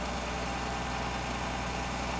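A farm tractor used for reseeding hog-damaged ground idles in a steady, unbroken low rumble, close and continuous, with no talk.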